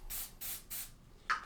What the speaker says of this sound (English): atmosphere aerosol,